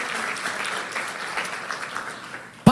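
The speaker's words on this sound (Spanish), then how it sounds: "Dale fuertes palmas si quiere dar al Señor con todo tu corazón" Church congregation clapping together in a steady, fairly loud burst of applause that carries on evenly for a few seconds before a sudden knock cuts in at the very end.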